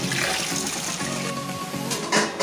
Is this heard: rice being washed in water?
yes